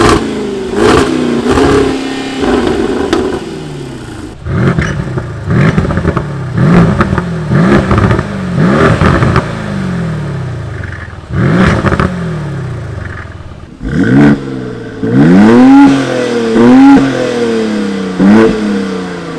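Sports SUV engines, a BMW X4M, Mercedes GLC 63S and Jaguar F-Pace SVR, blipped in a series of loud, sharp revs, each burst rising and falling quickly with pauses between, close and alone.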